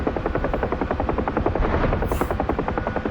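Helicopter in a multiplayer video game, with a steady loud rotor chop pulsing quickly and evenly throughout, plus a short high hiss near the end; no talking.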